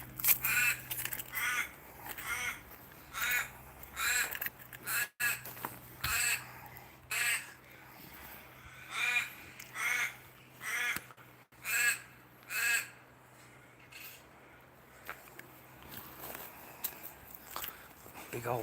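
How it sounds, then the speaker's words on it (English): A big crow calls repeatedly outdoors, loud harsh caws coming in a steady series of regular bursts close by, with some talk around it. "Big old blackbird."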